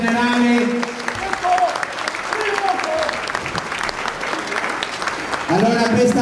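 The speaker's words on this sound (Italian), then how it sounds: "un bel applauso generale" Crowd applause at a regional Bersaglieri rally in Conegliano, Veneto, a steady wash of clapping mixed with voices, held for several seconds under a loudspeaker voice that comes and goes.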